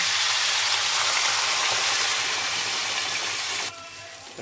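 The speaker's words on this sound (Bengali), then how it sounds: "মশলা মিক্সড হয়ে গেছে, এবার জলটা দিয়ে দিচ্ছি" Water pours in a steady broadband rush over spiced vegetables for shukto in a pan, loud and continuous for several seconds before cutting off abruptly.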